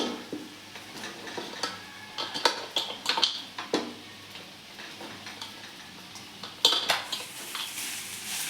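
Cooked rice stirred into oil and egg in a pan over a low flame for egg fried rice: repeated metal spatula scrapes and clinks against the pan in an irregular rhythm, close and clear, with a faint sizzle beneath.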